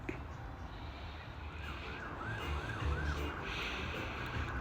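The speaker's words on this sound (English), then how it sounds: "So you can probably hear we've got a bit of a Sunday afternoon reggae vibe going on with the police sirens" Police sirens wail in the distance, rising and falling over a quiet Sunday afternoon garden with faint music and ambient noise; no talking.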